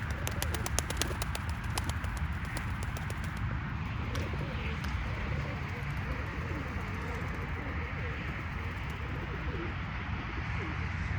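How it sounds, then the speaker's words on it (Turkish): Flock of pigeons cooing and fluttering up into flight, with a dense steady murmur of coos and wingbeats up close, a few sharp flaps or claps early on, and faint talk underneath. "Şu kuşlarımızı yavaş yavaş uçuralım arkadaşlar."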